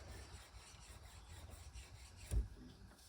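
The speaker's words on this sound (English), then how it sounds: "filing them enough to where the color changes on the grease that's soaked into them." A hand file rasps across the greasy splines of a drive shaft during a Dana 60 axle re-gear, faint repeated scraping strokes close by with one louder knock near the end.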